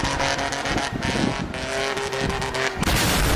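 A car in the video game Far Cry 3 drives hard with engine roar and repeated tire skids, loud and continuous for a few seconds with no talking.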